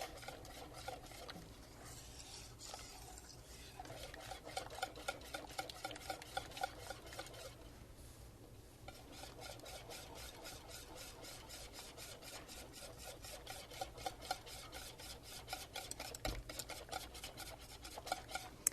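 A spoon stirs thickening banana pudding in a pot on the stove over medium-low heat, a continuous soft scraping and rubbing close up, steady and quiet.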